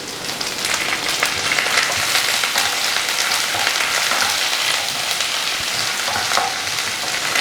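Onions and curry leaves sauté in a hot pan with a loud, steady sizzle and crackle that lasts the whole stretch, without any voices.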